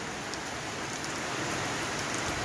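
Steady rain falling, a dense, even hiss of drops throughout with no voices.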